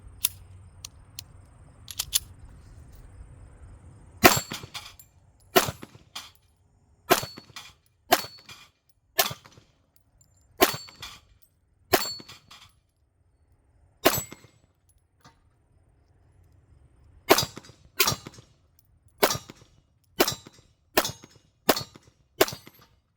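Smith and Wesson Shield Plus pistol firing sharp, loud individual shots, about fifteen in total, spaced roughly a second or more apart, with a short pause midway before a quicker string, and no talking.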